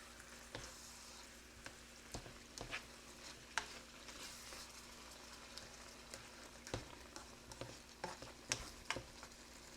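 Hamburger Helper bubbles and sizzles in a pan on the stove, with a quiet, steady simmer broken by soft pops and faint clicks, and no voices.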